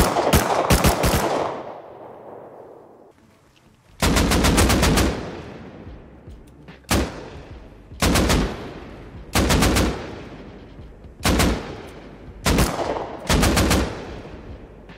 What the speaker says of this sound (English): That's a turret, Daz.